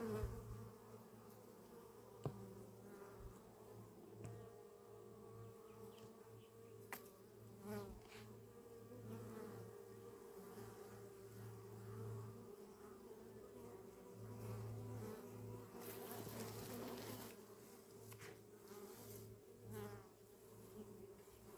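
Honeybees swarm around an opened hive during a farm inspection, a dense continuous buzz with individual bees droning close past, steady throughout and no talking.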